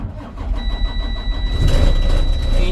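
Diesel engine of a Class 2 bus running during a pre-trip inspection, a steady close rumble that rises and grows louder partway through, with a thin high electronic tone over it.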